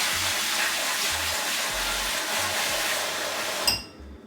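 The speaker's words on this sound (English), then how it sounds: "So I usually fill like a bowl with some hot water and soap." Hot water with soap runs from a tap into a bowl in a steady, close gush that lasts several seconds and then cuts off, with faint low thumps underneath and no talking.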